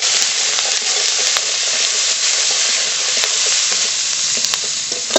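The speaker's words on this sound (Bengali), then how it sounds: "পেঁয়াজ কুচি দিয়ে দেব" Chopped onion hits hot oil already tempered with bay leaf, dried red chilli and whole cumin for a fish curry, giving a loud, continuous sizzle and hiss with a few sharp pops and spits.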